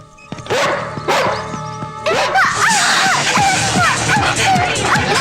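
A police dog arrives at a house in a Tamil film scene, barking repeatedly in quick yelps and bow-wows over a busy background of crowd and vehicle noise.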